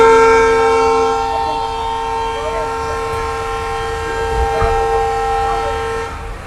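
A passenger train's horn blows as it departs on the Sirajganj to Dhaka run, one long, steady, loud blast that holds for several seconds before fading slightly.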